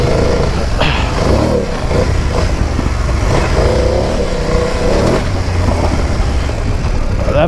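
A BMW F 900 GS motorcycle rides off road. Its engine note rises and falls with throttle changes under constant loud wind and rumble, close to the rider, with no speech.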